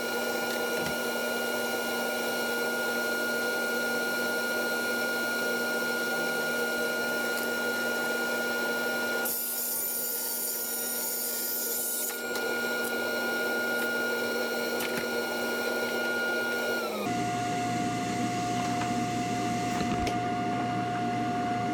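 A table saw or similar power saw ripping 3/4 inch maple plywood into 4.5 inch strips for closet French cleats, a loud steady motor whine with shifting pitch as the blade bites through the sheet.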